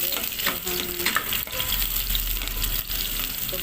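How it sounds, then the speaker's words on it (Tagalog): Aromatics sautéing in hot oil for chicken afritada, a steady broadband sizzle running throughout with a few brief stirring clatters, close and fairly loud, with no voices. "Kanang igisa ang atong mga ricado."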